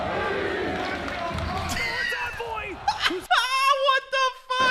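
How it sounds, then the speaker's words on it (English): A world championship esports match crowd roars and cheers loudly, a dense wall of voices with rising shouts, then cut off by a few sharp tonal game or broadcast sounds. "the crowd during this was nuts"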